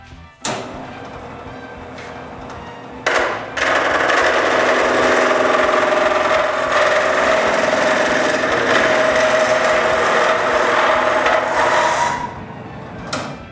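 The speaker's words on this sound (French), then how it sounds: "Le placer sur le tour, puis tourner le bloc rond." A wooden handle block spins on a lathe and is turned round under a chisel. A loud, continuous rasping cut runs for about nine seconds, with brief tool contacts before it and a tapering end.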